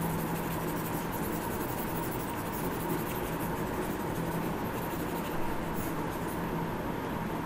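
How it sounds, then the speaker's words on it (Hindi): Pen or marker writing out a chemistry equation on a board, a steady scratchy friction with faint rhythmic strokes over a constant background hum, no voices. "देखो मैं फिर से लिख देता हूँ ये पूरी इक्वेशन ताकि कोई कन्फ्यूजन ना हो"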